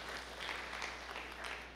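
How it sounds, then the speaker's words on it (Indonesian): A church congregation applauds during a sermon, a faint, even patter of many hands clapping over a low electrical hum, lasting a couple of seconds. "berikan tepuk tangan yang meriah"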